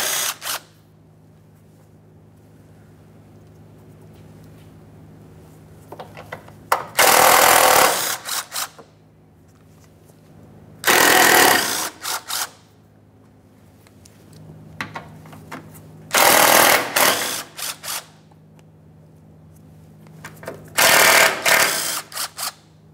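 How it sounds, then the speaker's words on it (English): A tool spins out 10mm mounting bolts on a 1994-1997 Honda Accord 2.2L during cooling fan assembly removal, making loud, close bursts of rapid ratcheting and whirring, four or five runs of about a second each separated by quieter stretches. "Now we can remove some 10mm headed mounting bolts."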